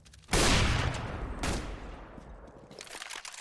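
Gunfire from CS:GO during a competitive match: a sharp, loud burst of shots followed by a second crack, then reverberant decay and faint clatter.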